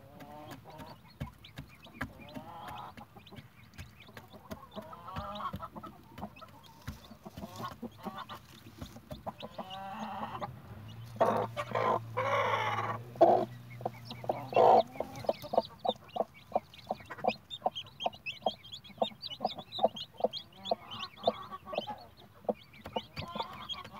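Chickens cluck and chatter nearby with a busy, continuous rhythm, joined by higher peeping from a premature chick; no talking.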